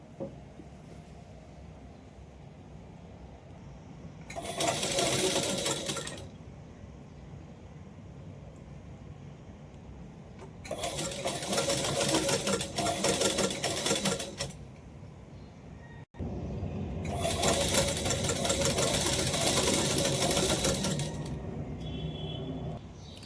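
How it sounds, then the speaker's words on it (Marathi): A sewing machine stitching along a fabric edge while making a child's top, running in three separate bursts of a few seconds each, loud and buzzing, with quiet pauses between. "आधी या साईडने आपण कडाने शिलाई मारून घेऊया."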